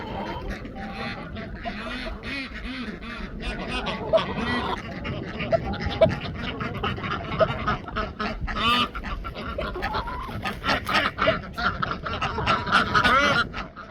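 Ducks quack and honk in a backyard poultry run at varied distances, calls rising and falling irregularly in a busy flock while someone talks over them now and then.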